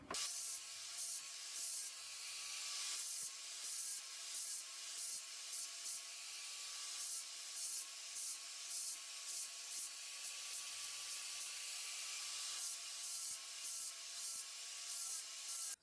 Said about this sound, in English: I've gotten very used to using my angle grinder over the years, so that's what I'm going to do.